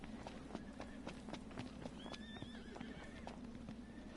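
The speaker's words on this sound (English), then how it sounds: "Oh, I hear horses." Horse hooves clip-clop in a steady trotting rhythm while a horse neighs and whinnies over a low droning background in the video game Final Fantasy XV; no one speaks.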